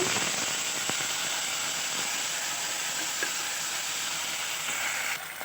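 Coriander-cumin paste sizzles steadily in a pan with rohu fish for a Bengali rui macher rosa curry, a continuous close frying hiss with faint stirring clicks and no talk.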